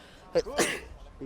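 One quick, close sneeze bursts out during a relaxed conversation, with a short intake before the explosive release and speech resuming right after.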